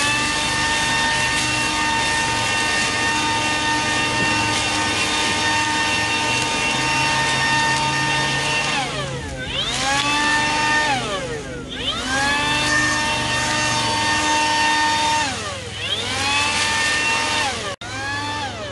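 A Makita 18V brushless leaf blower runs close and loud with a steady whine, its pitch dipping and rising several times as the trigger is eased and squeezed.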